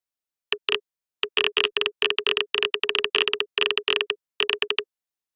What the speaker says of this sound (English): Here we will examine a single Geiger Counter pop sound